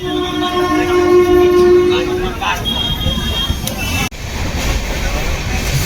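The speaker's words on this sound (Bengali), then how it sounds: "ট্রেন চলছে সঠিক টাইমে" A passenger train on the run from Gaya Junction toward Moradabad keeps up a steady low rumble and rattle of its carriages, with a horn-like tonal sound early on. People talk over the running noise throughout.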